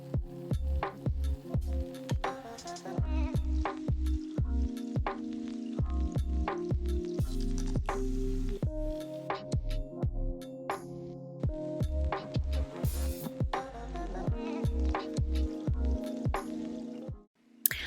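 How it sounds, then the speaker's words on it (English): A damp Sonia Kashuk beauty blender dabs foundation onto skin in quick, repeated wet squishes, close and steady in rhythm for nearly eighteen seconds with no talking. "Then I go in with my beauty blender, and it's damp."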